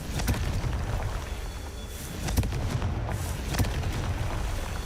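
Confringo blast spell explosions in Hogwarts Legacy gameplay, several muffled booms and thuds of moderate loudness scattered over a busy, noisy game background.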